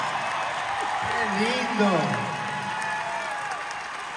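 A concert audience in San José, California, in November 2023 applauds a singer, a continuous wash of clapping with a voice speaking over it.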